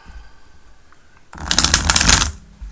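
A deck of tarot cards is shuffled with a soft riffle, one short burst of rapid fluttering clicks lasting about a second, close and clear after a quiet stretch.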